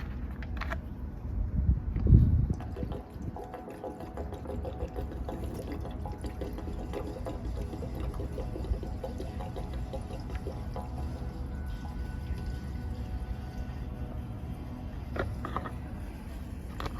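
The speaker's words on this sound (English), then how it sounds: "I'm going to pour this back in there." Heating oil is poured back into a home heating oil tank, a steady low liquid pour and trickle running continuously, fairly quiet and close, with a slightly stronger splash near the start.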